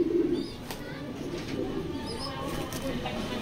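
Grizzle racing pigeon cooing softly in a loft, a few low murmuring coos close by with faint background noise.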